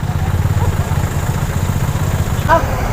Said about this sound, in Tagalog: Umubo yung sakyanan